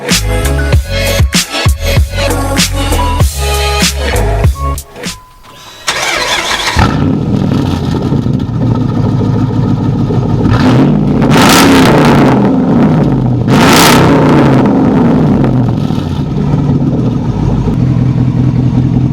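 Car fitted with a new aftermarket exhaust setup, starting with loud sputtering bursts, a brief dip, then catching into a deep rumbling idle that swells with repeated throttle revs, close and loud throughout.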